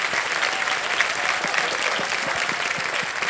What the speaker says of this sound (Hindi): जोरदार तालियां बज